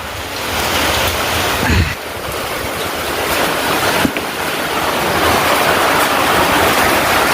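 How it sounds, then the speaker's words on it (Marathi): Loud, steady roar of wind and pouring unseasonal summer storm rain fills the whole recording outdoors, with a couple of brief thumps and gusts standing out from the constant wash. "आता पाऊस लय जोरात चालू झाला"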